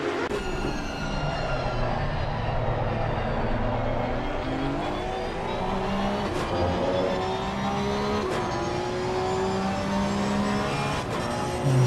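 Porsche Cup race cars roar continuously at Donington in a sim racing game, layered engine notes rising and falling in pitch as cars accelerate through corners, loud and steady throughout.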